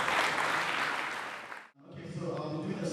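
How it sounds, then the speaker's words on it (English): Audience applause at a tech summit, a dense wash of clapping that fades to a near-silent break and is followed by quieter room noise with scattered claps and murmuring. "A warm round of applause."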